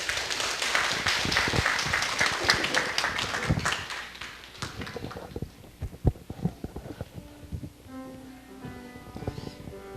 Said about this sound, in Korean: 우리 크게 박수로 환영해 주시면 감사하겠습니다